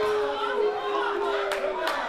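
A wrestling crowd shouts in a packed hall, a dense roar of massed voices with a sustained chant-like tone and a few sharp bursts of cheering near the end.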